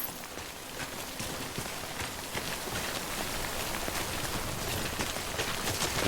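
Steady rain in the video game Death Stranding patters on a surface, a dense continuous hiss of drops that gradually grows a little louder.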